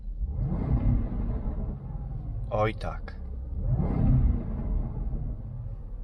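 The 5-litre V8 engine of a Land Rover Defender revving, a deep rumbling swell that rises twice from inside the cabin, with a brief spoken exclamation between the revs.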